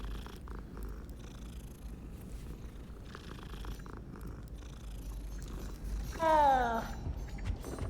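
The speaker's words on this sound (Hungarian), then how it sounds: "Ott is van egy cica." A cat in the game Hogwarts Legacy purrs in a soft, continuous low rumble close by, with a brief rising tonal call near the end.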